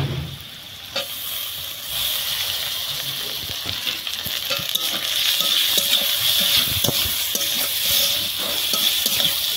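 Turmeric, cumin and chili powder with ginger are stir-fried in a pan, a continuous close sizzle broken by scraping stirs and small pops, with no talking.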